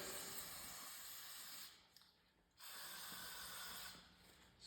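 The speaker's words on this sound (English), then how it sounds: "spray it off with this" Aerosol cleaner hisses onto a snowblower carburetor in two long bursts, close and steady, separated by a short pause, with a third spray starting at the end.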